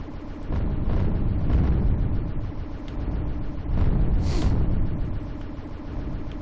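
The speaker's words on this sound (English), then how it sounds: "Where are those rockets coming from? I don't see, uh, oh, yeah, okay, they are launching them." Rockets launching and bursting in the shooter game Tiamat X, a dense, continuous barrage of loud booming explosions with swells and one sharp hissing burst near the middle, no voice present.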